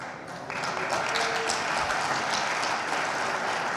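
A lecture audience at a sports-medicine talk breaks into applause after a greeting. The clapping swells after a moment into a steady, fairly distant patter, and a voice sounds faintly underneath.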